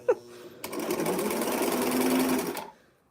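A sewing machine stitches a T-shirt seam in one steady rapid run lasting about two seconds, close and fairly loud, stopping abruptly.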